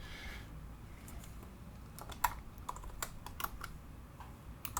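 Someone types on a Mac computer keyboard, a quiet series of irregular key clicks over a low background hum, with no voices.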